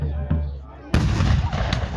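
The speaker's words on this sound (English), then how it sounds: "you can feel the shockwave from the cannons, guys" Cannons fire twice in a 1627 Netherlands battle reenactment: a dull boom followed by a much louder, sharper blast with a rolling shockwave that echoes.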